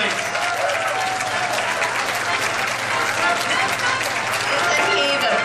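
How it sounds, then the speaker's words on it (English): A warm round of applause fills a room at a charity fashion show, many hands clapping loudly and continuously at an even level from start to finish, with some voices mixed in beneath. "Warm round of applause, please."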